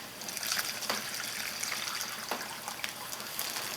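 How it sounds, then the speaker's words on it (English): Water is poured into a container while soft coral frags are reattached for an aquarium, making a soft, continuous trickling and splashing, close and fairly quiet, with no talking. "I'm going to take my container, pour the water in there"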